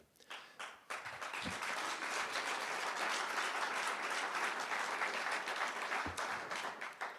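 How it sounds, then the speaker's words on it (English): Sustained audience applause during a mayor's State of the City address in Minneapolis, a dense, even wash of many hands clapping for several seconds, rising quickly and tapering slightly at the end, with no talking over it. "I appreciate the applause now"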